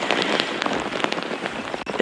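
Steady rain patters densely on covers draped over safari camera equipment outdoors, a close, continuous hiss of drops with no letup.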